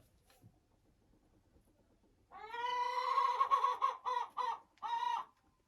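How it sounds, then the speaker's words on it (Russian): A hen clucks loudly and insistently while laying an egg in the evening, a run of close, harmonic cackles after a quiet start, then a few short separate bursts before falling silent. "Слышите? Уже вечер, курочка несется."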